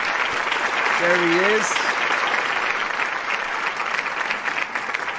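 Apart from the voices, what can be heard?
audience applause welcoming a guest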